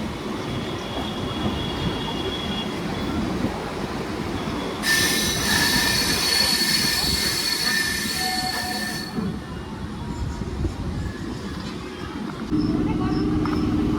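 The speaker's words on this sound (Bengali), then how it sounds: "হাড়ি শহর স্টেশনে আমাদের ট্রেন ঢুকে গেছে" A train pulls into Halisahar station with a loud, high metallic wheel squeal that rises over steady rail rumble for several seconds and then fades, followed by lower rolling noise.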